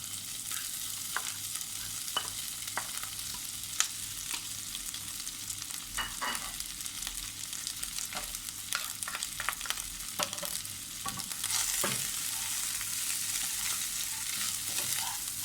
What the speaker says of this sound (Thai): แล้วก็ผัดนะคะ ผัดทุกครั้งเข้ากันนะคะ